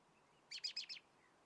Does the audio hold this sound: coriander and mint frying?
no